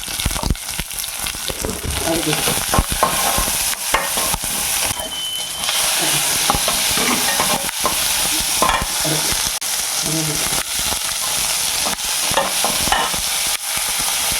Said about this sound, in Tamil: பச்சை மிளகா போட்டுக்கலாம்